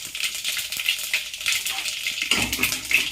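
Mustard seeds, cumin, fenugreek and black pepper spluttering and popping in hot oil for a Tamil drumstick sambar tempering, a close, busy crackle of rapid pops with brief louder bursts and no talk.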